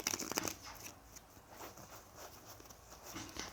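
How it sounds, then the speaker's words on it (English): Tarot cards shuffled by hand up close, with quick riffling patter bursts at the start easing into softer, sparser rustles and flicks. "I'll shuffle it 3 times,"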